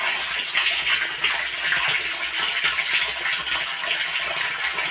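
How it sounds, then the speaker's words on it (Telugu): Water driven by a 1/2 hp motor pump pours into a tank, a continuous even gushing splash heard close and steady with no speech. "సో ఇప్పుడు ట్యాంకీలో కూడా వాటర్ పడతాయి."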